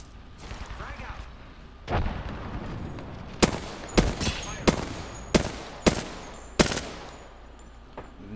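Gunfire in Apex Legends, a chaotic run of sharp shots and heavy booming blasts spaced about once a second, loud and close over a busy game background, with some voice chatter.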